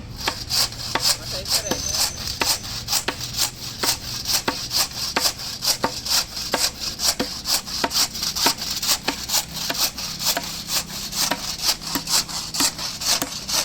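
A hand saw cuts through a piece of wood being shortened for a seat, in quick, steady rasping strokes, repeating evenly and close by.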